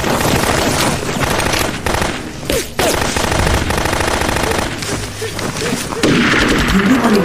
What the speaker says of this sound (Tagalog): nakatanggap sila ng sunod-sunod na putok ng baril